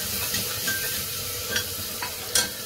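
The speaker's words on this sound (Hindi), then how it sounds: "तो मैं प्याज डाल रही हूँ।" Onions frying in a hot pan give a continuous, close sizzle with a few soft scraping stirs, steady in level and with no talking.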